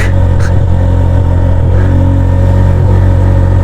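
A Honda CB150F motorcycle engine with a misfire runs loud and close, a steady rumbling idle broken by a few irregular stumbles and pops.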